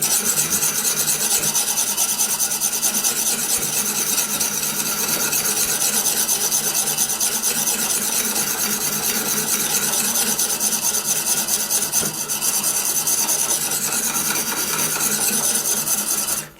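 A knife is sharpened on a stone in a Tsprof Pioneer guided sharpening system, giving a loud, continuous scraping rasp of steel on abrasive that runs steadily for the whole stretch without pauses.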